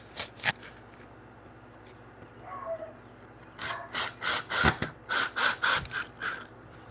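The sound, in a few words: hand tightening a screw with washer into wood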